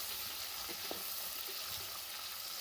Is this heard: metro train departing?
no